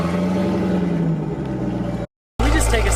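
A 1000hp Jeep Trackhawk running on E85 through a catless exhaust, its engine roaring loud and close, then briefly cutting out before returning with a deep, heavy rumble.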